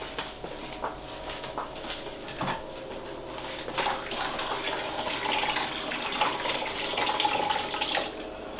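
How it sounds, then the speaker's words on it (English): Water runs from a tap into a bath in a steady, moderately close rush with small splashes and clinks over it, and no one speaks. "Let's get that bath topped up."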